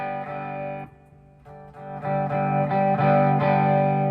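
Electric guitar on a clean amp channel with reverb, playing chords with a slightly gritty, amplified tone, starting quieter then ringing out louder and sustained, no voices.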